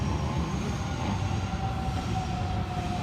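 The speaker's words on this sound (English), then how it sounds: "I see another train arriving. I think it's a Millennium." A Sydney Trains Millennium set arriving at Petersham station at night, a continuous rumbling roar of wheels and motors with a faint steady whine above it, loud and close for the whole stretch.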